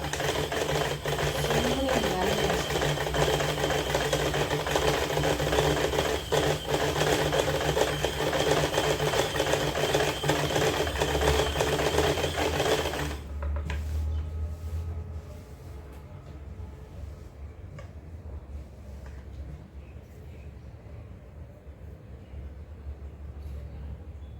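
A Stitch Queen sewing machine stitching an overlock fall onto a saree, a loud continuous rapid whirring run for about thirteen seconds that stops abruptly, leaving a low quiet hum with faint talk.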